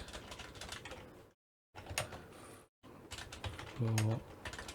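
Computer keyboard typing during a programming session: bursts of clicking keystrokes broken by short silent gaps, fairly close, with a brief low tonal sound near the end.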